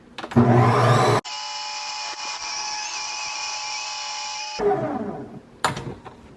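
Ninja ice cream maker running its mix-in cycle with sprinkles added to a frozen shake, a steady high-pitched motor whine of a few seconds between louder grinding bursts at start and end.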